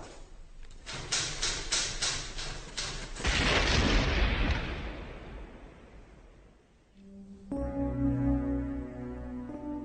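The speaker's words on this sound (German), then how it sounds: "Auch diese Explosion hinterlässt eine Trümmerwüste." A parcel bomb explosion in a true-crime documentary reconstruction: rapid sharp cracks, then a heavy booming roar that swells and slowly fades into rumble before dramatic music takes over.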